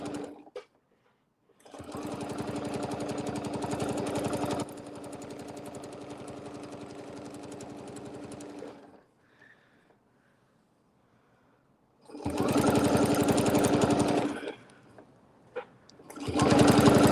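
A sewing machine stitches a line in fabric in several loud, close bursts, a long run that shifts to a slower pace, then silence, then two shorter runs separated by a pause, with no voices.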